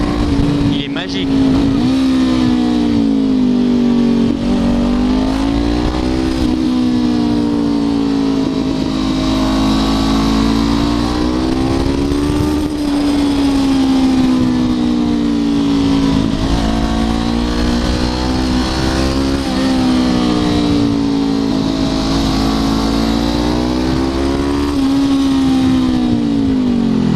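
A 2016 Honda CBR 500 R motorcycle engine runs steadily, its pitch rising and falling in smooth rev swells, loud and close throughout, with someone speaking French over it.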